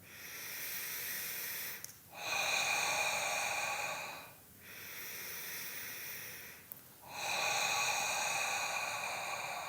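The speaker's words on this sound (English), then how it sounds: "Inhale through the nose, exhale through the mouth. Nice deep out breath." Slow, deep breathing in through the nose and out through the mouth, close and airy. Three or four long breath cycles each rise to a steady rush and fall to a brief pause.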